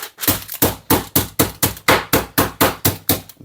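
A rolling pin pounds a pork cutlet for Korean dongaseu through greaseproof paper, striking about a dozen loud, close, evenly spaced thuds with no talking.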